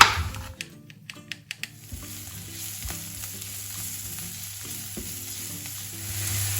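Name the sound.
garlic frying in a pan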